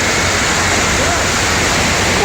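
Bursting water main in a Southern California earthquake ride effect: a loud, steady roaring gush of water that fills the whole moment without a break, like a close waterfall.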